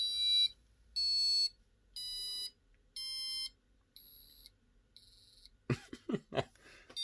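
A passive buzzer on an Arduino board sounds a string of six sharp electronic beeps at a steady pace, then stops and someone coughs a few times close by.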